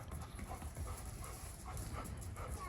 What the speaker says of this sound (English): Dogs are having fun.